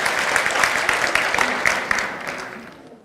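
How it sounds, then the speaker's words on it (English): Audience applause for parents at a kids' program, a dense, steady wash of many hands clapping that fades out toward the end, with no talk over it. "Round of applause for our parents."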